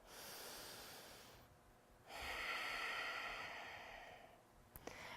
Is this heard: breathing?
yes